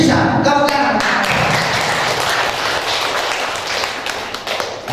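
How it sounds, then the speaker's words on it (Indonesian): Applause from an audience at a business training event, a burst of clapping hands that starts sharply and fades into scattered claps over a few seconds. "Tepuk tangan."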